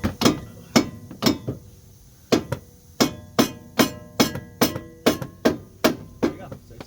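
Sharp metal-on-metal hammer blows strike a pickle fork wedged into a car suspension joint, about fourteen loud, evenly spaced whacks with a brief pause partway through, each ringing out quickly.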